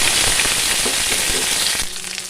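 Onions hitting hot oil in a kadai after mustard seeds have popped, a loud, dense sizzle with crackling that fills the whole stretch and eases slightly near the end.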